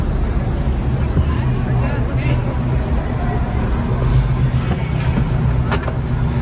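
A big-cam semi truck engine idles while warming up on a desert outing during the SEMA Show 2025, giving a steady, loud, close low rumble with voices murmuring around it.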